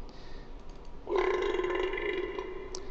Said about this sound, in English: That's the burp, which I think was his number one animation